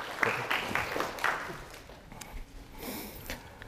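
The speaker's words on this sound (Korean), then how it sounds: "다시 한번 박수 한번 해주세요" An audience at a lecture hall event gives a brief round of applause, the clapping fairly faint and scattered, with quieter patches as it dies down.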